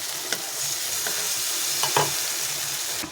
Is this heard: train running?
no